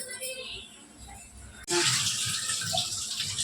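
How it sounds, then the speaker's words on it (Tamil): Items washed under a running tap, a sudden burst of splashing water that starts partway through and continues steadily, close, after a stretch of quieter room sound. "சரி, இது வாஷ் பண்ணிடுறேன்."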